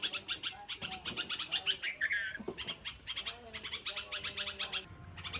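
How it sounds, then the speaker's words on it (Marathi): Sparrows perched together chirp in a busy, overlapping chatter of short high calls, close and continuous, with a voice speaking briefly beneath the birds. "तिकडं तर किती चिमण्या बसल्यात"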